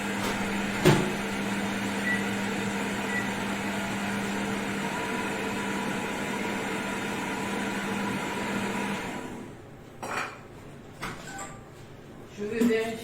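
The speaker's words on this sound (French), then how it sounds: "Moi, je vais le faire chauffer au micro-ondes." A microwave oven heating milk hums steadily with an even drone and a click near the start, then stops, followed by faint kitchen clatter and brief thumps.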